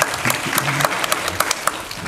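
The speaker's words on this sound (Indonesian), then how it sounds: "Tepuk tangan." Audience applause during a campus visit event at an Islamic university, a short burst of clapping with scattered sharp claps standing out, moderately loud and steady for about two seconds, with some faint voice underneath.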